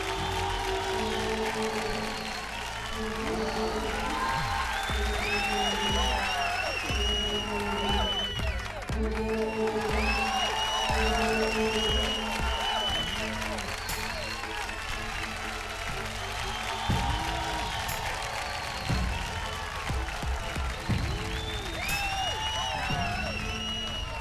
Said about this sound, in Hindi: सचिन के लिए जोरदार तालियां।